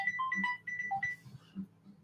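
A phone rings in a bright electronic ringtone, a quick melodic run of beeping notes repeated several times, close and clear over a low hum.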